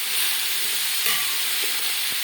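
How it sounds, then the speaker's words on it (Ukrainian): Chopped onion hits hot sunflower oil in a pan and sizzles with a steady, bright hiss that holds evenly throughout, near and alone, with a couple of faint stirring clinks. "Висипаю цибульку"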